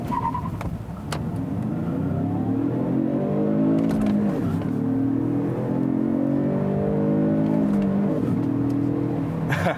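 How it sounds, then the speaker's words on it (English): A 2019 Genesis G70 2.0T with a six-speed manual makes a hard acceleration run with traction control off. The engine note climbs steadily through the gears, with a brief dip at each shift. It sounds loud, continuous and close, with no talk. "let's try a quick acceleration run"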